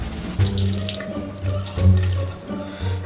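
Liquid poured out into a sink splashes in uneven bursts, close and fairly loud, with running-water gurgles.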